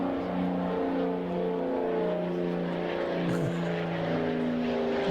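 Propeller aircraft drone loudly overhead at an air show, giving a steady close engine roar with a sustained low tonal hum and a slight pitch shift as one passes, with no speech.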